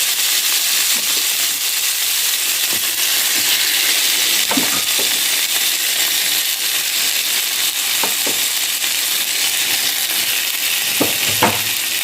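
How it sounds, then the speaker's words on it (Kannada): Chicken frying in a pan on a low flame for a Muslim-style chicken fry makes a constant, close sizzle and hiss, with occasional sharp clicks and scrapes from stirring, and no one speaks. "ಫಸ್ಟಿಗೆ ಚಿಕನನ್ನು ಸ್ವಲ್ಪ ಫ್ರೈ ಮಾಡಿ"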